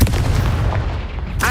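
Confringo fire blast spell from the Hogwarts Legacy video game: a loud, continuous booming rumble sustained throughout, closing with a sharp burst of fresh impact right at the end.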